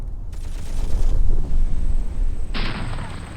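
Tank gunfire sounds in the video game Graviteam Tactics: Mius Front, a 1943 Eastern Front battle. Deep rumbling booms and blasts form a dense, continuous roar through the short stretch.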